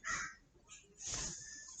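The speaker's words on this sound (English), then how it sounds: "The crows are beating down the window again." Crows caw outside a window, a few harsh calls in quick succession, fairly close.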